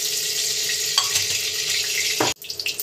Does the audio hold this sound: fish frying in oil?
yes